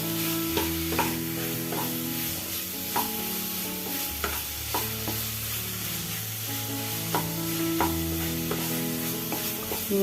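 Fried potato pieces stirred into spiced masala in a pan for a raw banana kofta curry, with a steady close sizzle and repeated scraping strokes of a spoon against the pan, no voices.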